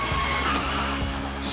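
A supercar braking hard on a test track, tires skidding and squealing in a brief, loud continuous screech over engine noise.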